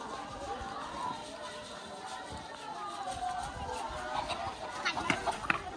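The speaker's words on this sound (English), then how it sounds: "Just trying to catch a chicken." A chicken clucks and squawks in a village in Lofa County, Liberia, as someone chases it, with close, agitated calls rising toward the end over background voices and outdoor bustle.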